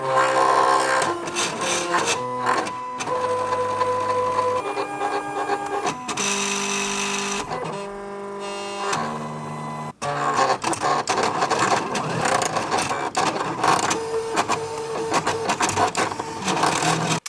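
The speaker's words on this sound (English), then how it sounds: "I have both printers running right now because they are incredibly slow" Two printers running at once while printing sticker kits, a dense mechanical whir and clatter of print heads shuttling back and forth with rhythmic tonal stepping and brief pauses, loud and close.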